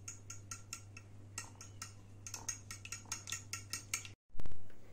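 Two eggs whisked with white pepper and salt for an omelette, a utensil clicking rapidly and rhythmically against the bowl for about four seconds over a low steady hum, ending with a brief louder clatter.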